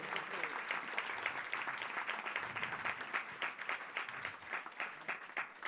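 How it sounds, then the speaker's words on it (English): Audience applause fills a large hall at a national birthday celebration, a dense, steady wash of many hands clapping that carries on throughout without a break. "give Sister Renu and her team another lovely round of applause."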